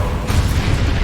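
A Confringo explosive spell blast in Hogwarts Legacy, a deep booming burst with a sustained low rumble lasting about a second, loud and close.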